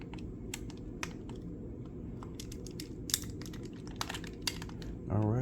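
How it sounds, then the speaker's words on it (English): Buttons on a Lenovo Legion Go handheld gaming console click in a quick, irregular series of sharp, close taps, heard over a low steady background murmur. "all the buttons click"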